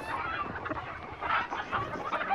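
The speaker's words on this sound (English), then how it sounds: "Chicken's crying." Chickens cluck in Hunt: Showdown, a steady run of fowl calls at moderate distance over a dull ambient bed, with no talking.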